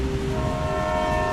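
A train passing close by with a steady, loud horn tone held throughout, over the rumble and clatter of the rail cars.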